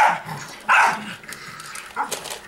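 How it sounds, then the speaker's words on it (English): A robot toy dog gives a few short, sharp electronic barks and yips at close range, with some rustling and handling noise between them. "Kill that stupid metal dog."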